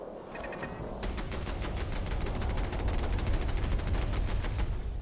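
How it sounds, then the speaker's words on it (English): Automated turret in Fallout 4 firing a rapid, sustained burst of rounds, loud, evenly spaced shots rattling continuously over low rumbling background. "let the turret do the work"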